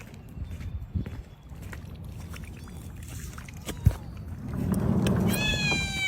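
Cats outdoors give a short meow or two near the end, over soft rustling footsteps and a faint background hum.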